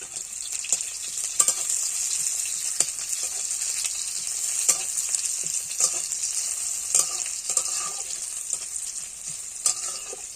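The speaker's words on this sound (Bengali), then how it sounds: "ভালো করে লাল লাল করে ভেজে নেব" Crushed garlic fries in a pan with oil, a steady bright sizzle throughout, broken by frequent scraping clicks of a stirring utensil, close and fairly loud with no talking.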